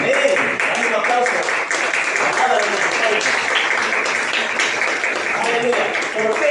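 A church congregation applauding during a sermon: loud, dense clapping sustained evenly throughout, with scattered voices calling out beneath it.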